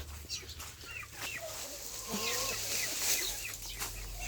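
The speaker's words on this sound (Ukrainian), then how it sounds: "Це курчатка. Їдять." Small chicks cheep and cluck busily as they feed, many overlapping peeps close by over a low steady hum, with no talking.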